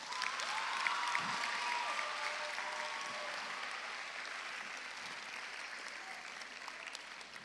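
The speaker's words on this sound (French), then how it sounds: "est-ce qu'on peut acclamer pour KS?" A crowd at a youth-focused church talk with a pastor applauds loudly, with some cheering, in a sustained wash of clapping that fades slowly over several seconds.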